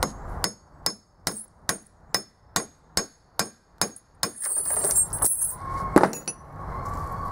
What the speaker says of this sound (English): You need minimal tools, just a chisel and a hammer.